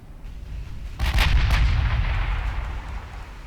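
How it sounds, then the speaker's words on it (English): Battleship main guns firing in the naval strategy game Ultimate Admiral Dreadnoughts: a heavy booming salvo hits suddenly after a quiet second, then rumbles and fades slowly, loud and alone. "See if it can get all the guns firing on the battleship then."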